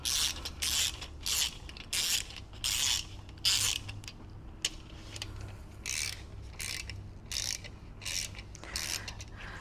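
A 3/8 ratchet with a 17 mm socket tightens bolts on a 20-year-old BMW E46 M3 S54 engine, giving close, rhythmic bursts of rapid pawl clicking, repeated stroke after stroke without talk.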